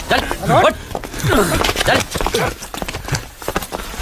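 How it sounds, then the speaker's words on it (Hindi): A horse from a Hindi action film scene, its hooves clip-clopping in an irregular rhythm at close range with a brief whinny, while someone talks loudly over it. "निकालो इस घोड़े को यहाँ से।"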